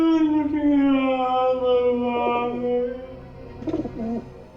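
A long, low cooing call from a pigeon holds steady, followed by a couple of shorter coos close by.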